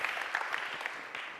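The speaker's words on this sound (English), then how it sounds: "Big applause from Spain to Vienna for tonight." A brief stretch of dense audience applause fills a room at an evening strategy slam event in Vienna, even and sustained without any voices over it.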